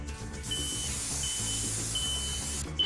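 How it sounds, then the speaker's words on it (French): Several smoke detectors shriek together in a shrill, sustained high-pitched chorus, loud and continuous for nearly three seconds, with no voices. "on veut faire un concert de détecteurs de fumée"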